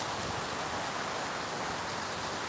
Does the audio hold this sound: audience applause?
no